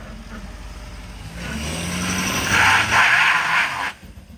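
A diesel engine in a hammered Ford 6.7 Powerstroke truck rises in pitch and volume as it builds boost, a close rumbling drone with a whistling turbo layer that swells and then drops off abruptly.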